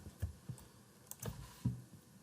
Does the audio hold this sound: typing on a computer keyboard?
yes